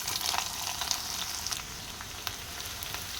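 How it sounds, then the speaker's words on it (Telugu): Onion pieces fry in oil with mustard seeds and chana dal for a broad bean and fenugreek curry, giving a steady, close, dense sizzle with small crackling pops and no voices. "శనగపప్పు ఫ్రై అయిన తర్వాత ఆనియన్ ముక్కలు వేసుకోవాలి."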